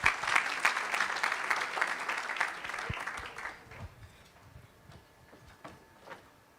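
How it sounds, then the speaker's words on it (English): A crowd at an awards ceremony breaks into a full round of applause, dense and loud for about three seconds, then fades to a few isolated claps in a quieter room. "Let's give a warm round of applause."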